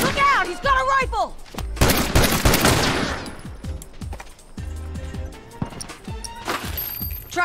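Rifle gunfire in a Factions multiplayer match: dense, loud bursts of shots and rapid fire with crashing impacts, rising and falling over several seconds amid chaotic game noise.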